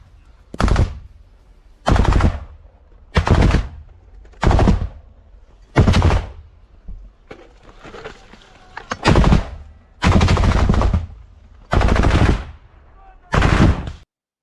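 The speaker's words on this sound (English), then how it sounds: "The Ukrainian soldier reloads and gets ready to fire another round." Close-range gunfire in heavy combat in Ukraine, with loud repeated bursts of automatic fire separated by short pauses, about ten bursts in all, near and dominant over faint background noise.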